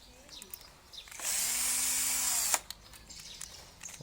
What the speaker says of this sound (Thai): เดี๋ยวจะให้เจาะอันนี้ไป